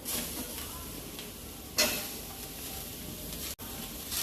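Chopped capsicum frying gently in a pan with only a little oil, giving a steady, soft sizzle throughout with a brief louder burst midway as the pieces settle.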